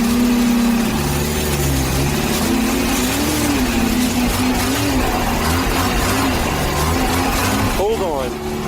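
An old car engine, started after 40 years stored in a rotten wooden garage and running rough, drones steadily and loudly throughout, with people talking over it.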